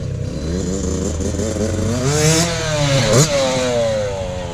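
Yamaha YZ65 two-stroke dirt bike riding over a tabletop jump, its high buzzing engine revving and rising in pitch, dipping briefly and then climbing sharply again, loud and fairly close.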